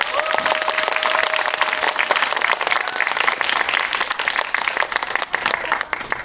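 A cinema audience at a film Q&A screening applauds as actors Yoo Jae-myung and Song Joong-ki walk in, with steady, dense clapping from a large crowd that continues throughout.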